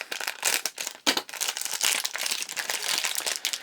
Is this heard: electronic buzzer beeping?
no